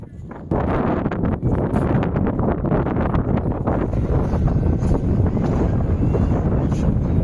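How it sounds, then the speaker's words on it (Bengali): Strong wind sweeps a beach at Bakkhali, buffeting the microphone with a loud, constant, rumbling roar from start to finish. "হাওয়া চলছে ভীষণ"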